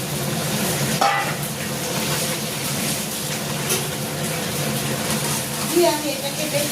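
Chicken pieces are stirred into golden fried onions in a hot pan, with continuous sizzling and occasional scraping and clinking of a spoon while someone talks over the cooking.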